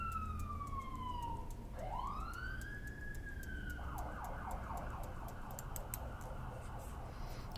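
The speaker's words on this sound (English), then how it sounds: "Cue siren." Emergency siren wailing steadily, rising and falling then shifting into a fast yelp pattern, fairly distant under constant background noise.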